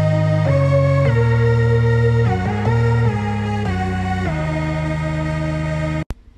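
Saw-wave synth line in Logic, pitched much higher, with loud bright sustained notes changing pitch in steps for about six seconds before stopping sharply.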